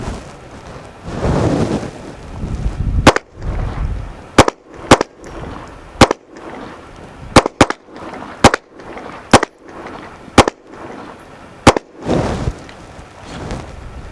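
A Ruger Magpul RXM pistol fires 115 grain full metal jacket rounds outdoors: about ten sharp, loud cracks at uneven intervals, with rumbling wind and ambient noise between them.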